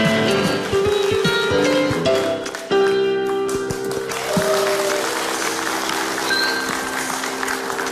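Hand clapping on the set of the Indonesian TV talk show Hitam Putih, a steady patter running through the whole stretch over sustained musical tones and studio hum.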